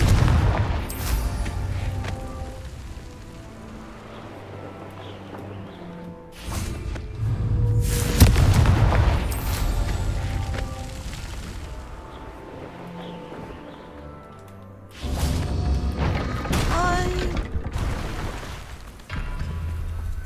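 Repeated magical Confringo blasts in Hogwarts Legacy, a few loud booming bursts spread apart over a rumbling game soundscape with music, no talking.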